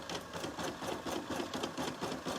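A sewing machine runs its first stitching on a robe back after a fresh bobbin is loaded, a rapid, steady mechanical chatter of needle strokes at close range with no voices.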